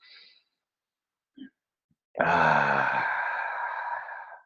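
During breath work, a brief exhale and small breath noises lead into a long, deep voiced sigh-like breath that swells suddenly and fades slowly, close to the ear.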